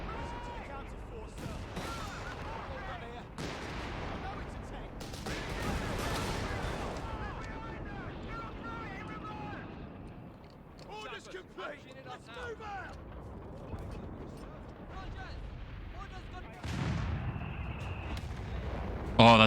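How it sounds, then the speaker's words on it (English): Howitzer artillery fire in Company of Heroes 3, in a British Forces match, sounds as repeated deep booms and rumbling impacts, moderately loud beneath ongoing narration. "You can really easily destroy buildings with this howitzer"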